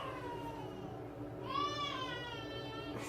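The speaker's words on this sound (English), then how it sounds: "Sorry if you guys hear my kids screaming and hollering." Children's voices cry out and holler in the background of a household, a high wavering wail rising over steady room noise for a couple of seconds.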